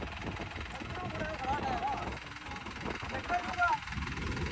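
A stuck tractor's engine drones steadily under excited voices shouting instructions while the tractor is being pulled out, the low rumble continuous and moderately loud.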